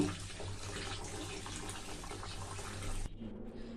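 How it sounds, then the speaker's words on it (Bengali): Two cups of raw rice being rinsed in running water before pressure cooking, a steady close splashing wash of water that stops abruptly near the end. "প্রথমে চাউল আমি সুন্দর করে ধুয়ে নেব"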